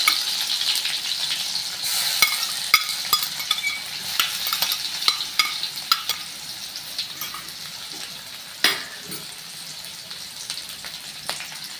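Crushed shallots and garlic frying in hot oil with mustard seeds in a pan for Kerala-style dal, a steady close sizzle with scattered pops and crackles and occasional stirring scrapes throughout, no talking.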